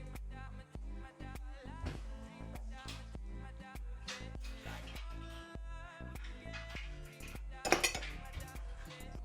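Soup is poured from a pot into serving bowls, ladle and dish clinks sounding close and fairly faint, with a brighter burst of clattering near the end.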